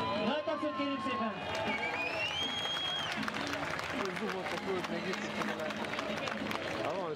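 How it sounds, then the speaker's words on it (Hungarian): A crowd at an off-road event in Somogybabod applauds and cheers after a vehicle tips over. The clapping is dense and steady under loud babble, and a brief whistle cuts through early on. "Nagy tapsot kérünk szépen!"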